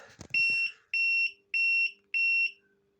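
Four evenly spaced electronic beeps, each about a third of a second long and high-pitched, sound after a brief click as a Luxeon UPS-500L uninterruptible power supply powers on.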